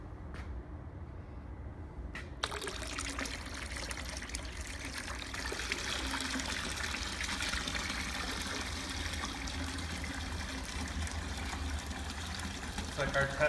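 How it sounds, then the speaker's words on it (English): Water from a pump trickling and pouring into the bowl of a Zen tabletop fountain, a steady close-up splashing flow that swells after a couple of seconds and continues throughout. "Bowl's filling up."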